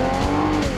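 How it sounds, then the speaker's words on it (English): A 1992 Toyota Windom engine revs loudly and steadily at close range, a sustained droning tone with two brief surges, no talking. "Rev up your engine!"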